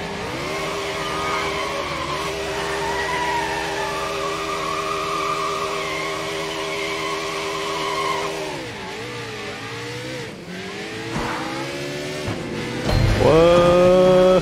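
Vehicle engine in Sleeping Dogs video game, a loud sustained drone with pitch rising and falling through revs and gear changes, ending in a sharp rising rev with a tire squeal.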